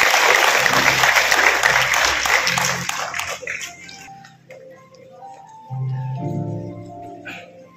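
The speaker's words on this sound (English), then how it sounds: "A round of applause." A large audience applauds graduates at a university convocation, a loud dense burst of clapping that fades after a few seconds into quieter hall sounds and tonal music-like hum.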